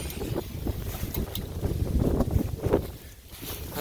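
Loud, rumbling wind buffets the microphone outdoors, gusting unevenly throughout with no voices, while a work crew drills shiitake mushroom logs for inoculation.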